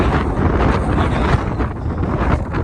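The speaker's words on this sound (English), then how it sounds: "And it is definitely super windy." Strong wind buffets the microphone in a steady, loud roar with rumbling gusts on the summit of Saint Charles Peak in Colorado's Sangre de Cristo Mountains, no other sounds standing out.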